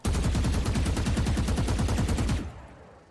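Vandal rifle held on full-auto in Valorant, a loud, fast, evenly spaced burst of gunshots lasting over two seconds before cutting off into a fading tail.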